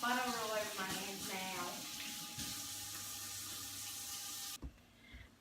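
Tap water runs into a sink for hand washing in a home kitchen, a steady splashing hiss under a person talking, then cutting off abruptly near the end.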